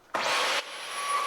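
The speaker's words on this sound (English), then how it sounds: "we'll give all that debris and everything like that a quick vacuum" A vacuum cleaner sucks up debris in one short, loud whooshing burst of roaring airflow that cuts off abruptly and leaves a quieter steady hum with a thin whine.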